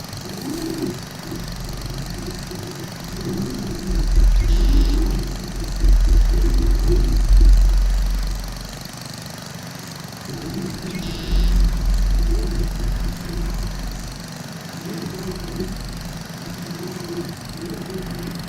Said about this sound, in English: I got a mod that lets me mow at the vehicle's full speed